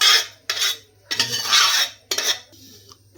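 Cooked karkidaka rice porridge being moved into a vessel, with several short bursts of metal spoon scraping and clinking against the pot, close and alone, separated by brief pauses.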